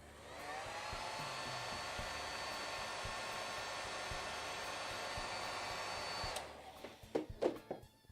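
Hair dryer blowing on paint, a steady high whooshing whine that runs continuously for about six seconds, then cuts off, leaving a few faint clicks and knocks close by.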